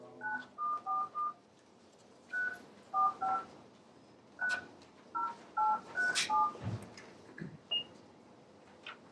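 Touch-tone telephone keypad dialing into a conference call: about fifteen short, distinct DTMF beeps in irregular quick bursts, close and clear, with faint room noise and no talk.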